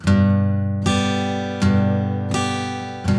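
A guitar strummed on its lower strings, four full chord strokes that each ring out and sustain before the next, played close and alone.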